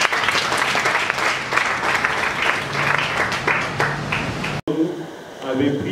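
Audience applause at a workshop on women's rights in the DRC, dense steady clapping that fills most of the stretch, then cuts off abruptly and gives way to quieter room sound with faint tonal noise.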